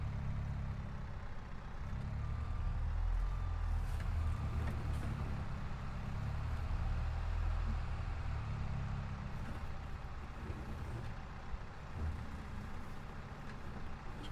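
A tractor engine in Farming Simulator 22 drones with a steady, fairly quiet low rumble that holds for the whole stretch, with slight swells and faint mechanical clicks.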